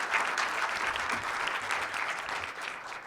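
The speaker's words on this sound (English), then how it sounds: "Let's give them the energy industry a round of applause." Audience at an energy industry panel event applauds a panel of energy executives, a dense, steady wash of clapping that stays loud throughout and eases only slightly at the end.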